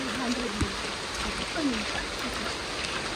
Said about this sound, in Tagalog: Kinabot din pala kami ng ulan